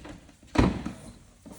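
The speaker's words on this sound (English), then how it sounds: "And now you can exit through your habitation door," A Mercedes Sprinter motorhome's habitation door swings open with a single close, solid thunk and brief latch rattle, then quiet interior ambience.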